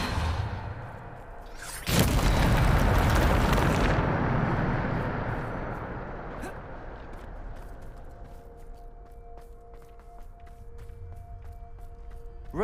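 A Depulso spell cast in Hogwarts Legacy, a sudden loud blast and rushing whoosh that swells then slowly fades into a low rumble, followed by faint ticks and a soft tonal hum.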